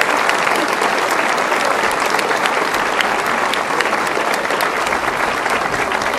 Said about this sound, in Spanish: le damos la bienvenida también con un aplauso a ellos y a sus familias